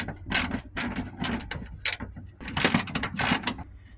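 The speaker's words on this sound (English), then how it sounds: "And I'm going to cut the cable." Hood latch cable on a 1982-92 F-Body car being cut, a series of close mechanical crunches and snaps from the cutting tool, irregular bursts with short pauses, no talking.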